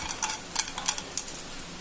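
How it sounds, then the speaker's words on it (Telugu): Mustard seeds and chana dal crackle in hot oil in a pan while tempering a green chilli and tomato chutney: scattered sharp pops and ticks over a faint, steady hiss, fairly quiet, with no voices. "ఆవాలు చిటపట వేగాలి. పచ్చెనపప్పు కొంచెం దోరగా వేగాలి."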